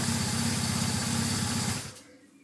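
A BMW R1150 GS motorcycle engine idles close by with a steady, rapid thrumming pulse, then is switched off and cuts out abruptly near the end.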